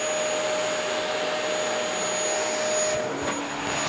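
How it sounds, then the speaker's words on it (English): A vacuum cleaner drones loudly and steadily nearby with a high whine, its tone shifting slightly toward the end. "I'm scared of the vacuum cleaner."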